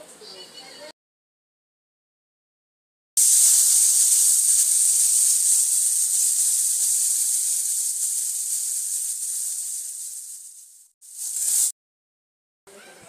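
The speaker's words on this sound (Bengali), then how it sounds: "তো এবার আমি ঝিঙেগুলো এখানে ভালো করে ভেজে নিচ্ছি" Ridge gourd slices frying in hot oil in a pan give a loud, steady hiss that holds for several seconds and slowly fades, then briefly flares again, with gaps of near silence around it.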